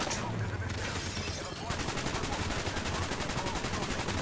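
Rapid automatic gunfire in a Black Ops campaign shootout, a dense continuous rattle of shots running the whole time, loud and close, with a brief lull before the firing thickens.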